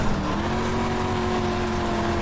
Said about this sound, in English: You can hear from the engine note how much speed and sort of how many revs I'm losing through the corners